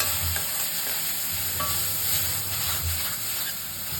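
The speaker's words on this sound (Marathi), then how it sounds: "आणि ते सुद्धा छान परतते आहे" Vegetables and ground roasted spice paste sautéing in a pan for restaurant-style veg Kolhapuri, a constant close sizzle with intermittent stirring and scraping throughout.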